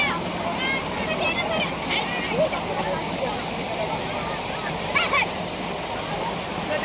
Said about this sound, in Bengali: ওই ওপর থেকে জল আসছে।